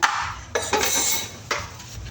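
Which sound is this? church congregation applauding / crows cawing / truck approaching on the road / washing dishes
washing dishes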